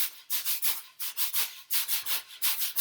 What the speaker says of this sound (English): where the brush is really pressed into the drum head